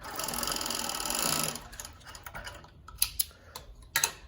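A Jack W4 cover stitch sewing machine sewing with three needles runs with a fast, steady mechanical rattle for about a second and a half. Then it stops, leaving scattered clicks and taps of fabric and parts being handled.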